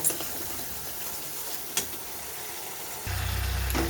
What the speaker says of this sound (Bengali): যাতে আদা আর কাঁচা লঙ্কার কাঁচা গন্ধটা চলে যায় সেই জন্য আমি কিছুক্ষণ ভালো করে কষিয়ে নেব